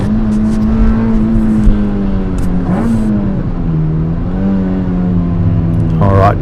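A K-swapped Honda Civic track build pulls hard around a race circuit, its engine note rising and falling through shifts and corners, loud and close, with faint wind and tire noise underneath.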